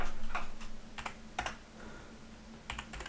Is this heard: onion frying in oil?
no